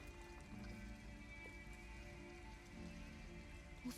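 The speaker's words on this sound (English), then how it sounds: "It is raining." Rain falls in the video game Detroit: Become Human as a soft, steady, even patter, quiet and continuous, with a faint tonal hum underneath and no talking.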